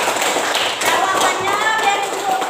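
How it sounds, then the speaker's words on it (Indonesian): A classroom of students claps for a classmate, dense and steady applause that stays loud throughout with no pauses. "Tepuk tangan untuk Putri."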